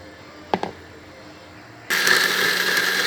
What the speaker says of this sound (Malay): Saya blendkan sehingga halus, sehingga lumat.